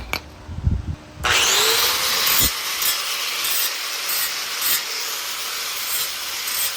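A 4.5 inch angle grinder with a cut-off disc slices through a steel shelf, a loud, steady high whine starting after a second of quieter handling noise and running on without pause.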